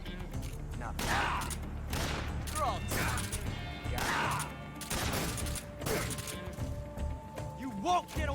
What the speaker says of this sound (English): I tried to shoot the Markor 3 times and missed.